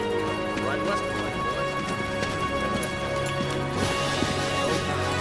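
Horse hooves clip-clopping in an Old West town during an arrest, a steady run of hoofbeats mixed into a busy, rain-like ambient wash with voices talking over it.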